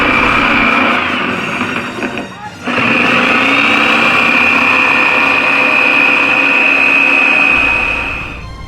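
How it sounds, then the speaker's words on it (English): A jigsaw cuts a shape out of sanded plywood with a loud, close, continuous buzzing whine that breaks off briefly near the start, then runs steadily before winding down. "use a jigsaw to cut out the shape"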